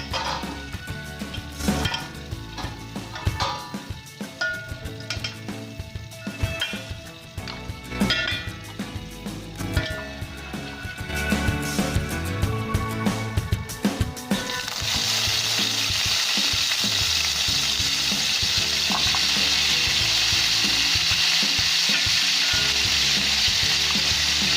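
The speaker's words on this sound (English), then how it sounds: "I'm going to stir fry." Boiled rice stir-fried with mutton stock for peas pulao, a loud continuous sizzle with clinks and scrapes of a utensil against the pot, the frying hiss growing steadier and denser toward the end.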